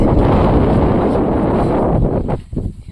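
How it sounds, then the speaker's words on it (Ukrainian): A blustery rush of wind roars steadily into the microphone in a snowy winter garden, then drops off and buffets in uneven gusts near the end. "вітер рванув"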